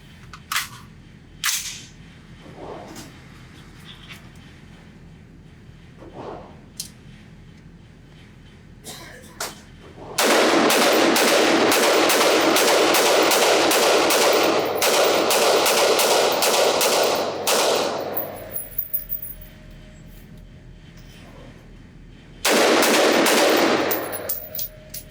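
Rifle fire with a Feyachi WL25 weapon light mounted: scattered single shots, then a long loud stretch of rapid repeated gunshots and another burst near the end, outdoors at close range.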